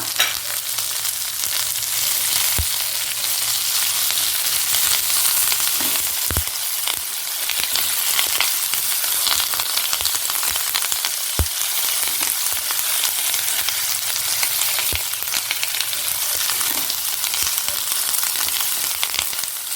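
Fresh curry leaves and green chillies fry in a pan with a steady, loud sizzle that crackles continuously, punctuated by occasional sharp knocks of stirring.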